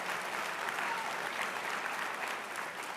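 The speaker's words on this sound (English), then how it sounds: "So can you give a round of applause for that?" A summit audience breaks into sustained applause, an even, dense clapping heard at moderate distance throughout, with no talking over it.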